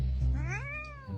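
A cat gives one clear rising-and-falling meow, close and fairly loud, over a low steady hum.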